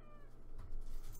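Mia, a pet cat, lets out a single short meow partway through, close to the microphone against a quiet room background.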